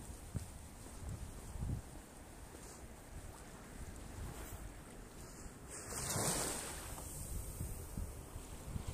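Sea waves wash in at high tide on the Weston-super-Mare seafront, a steady broad rush with heavy wind buffeting the microphone and a louder surge partway through.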